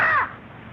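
A single short bird call, a loud harsh caw with a falling tone lasting under a quarter second, followed by quiet background.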